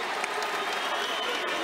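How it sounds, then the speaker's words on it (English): An arena crowd applauds the new heavyweight boxing champion after the fight, a brief, faint, even roar of clapping and crowd noise heard from a distance. "can we give a round of applause for Andy Ruiz, the new heavyweight champion?"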